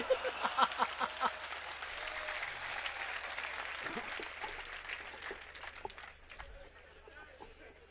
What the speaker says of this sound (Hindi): एक आदमी ताली बजा रहा